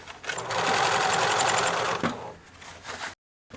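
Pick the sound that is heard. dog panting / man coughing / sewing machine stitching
sewing machine stitching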